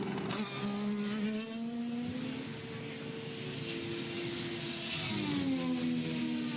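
An IndyCar race car at Portland International Raceway screams past during practice, the engine pitch stepping down through a couple of gear changes before climbing again, loud and close and heard alone.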